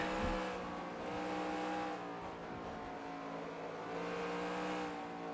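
Steady, droning stock car engine at high revs in NASCAR Racing 2003 on a road course, with a layered harmonic whine that rises and falls slightly as the car drives on, no talk.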